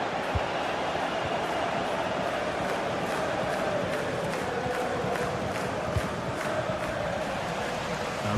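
A stadium crowd in a football video game roars in a steady, continuous wash with scattered louder shouts, and commentary runs faintly beneath it.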